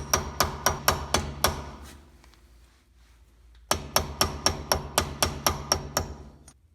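Hammer tapping a tight-fitting dust cap onto the rear wheel hub of a 2007-2013 Honda Fit, two runs of about seven sharp, evenly spaced close metallic taps separated by a short pause.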